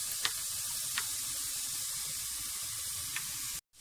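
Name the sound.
eggs and rice sizzling while frying in a pan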